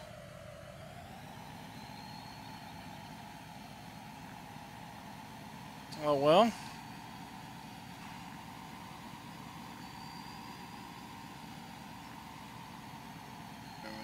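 A vehicle engine in Farming Simulator 17 drones steadily at a low, even level for the whole stretch, with a brief spoken remark midway.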